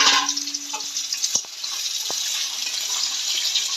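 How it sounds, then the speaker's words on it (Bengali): Boiled small potatoes frying with cumin in a pan, a close hiss and crackle with a few sharp clinks of a utensil early on, settling into a steady sizzle. "আলুটাকে একটু কষিয়ে নেবো ভেজে নেবো"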